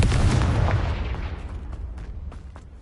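A Confringo fire spell explodes in Hogwarts Legacy, a loud booming blast that fades out over a couple of seconds, with a few sharp crackling pops trailing behind.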